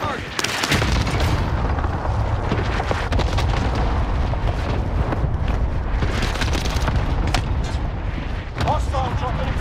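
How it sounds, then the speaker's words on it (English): Call of Duty: Modern Warfare airstrike, heavy booming explosions and rumbling blasts rolling continuously for about ten seconds, loud and close, with scattered gunfire and radio-style voices mixed in. "Marking airstrike target. Got your request. Strike is active."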